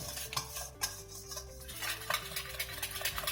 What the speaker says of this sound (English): So I just want to whisk it for a few minutes, a couple minutes.